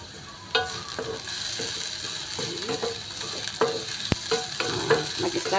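Garlic sizzles as it browns in a frying pan, stirred steadily with scraping strokes and occasional sharper clinks against the metal over a constant hiss.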